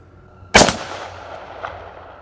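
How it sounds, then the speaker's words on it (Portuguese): A father fires a shotgun inside a house at a creature breaking through the window: one sharp, loud blast that then rings and decays over a long tail, with a faint second thud shortly after. "deu mais um tiro."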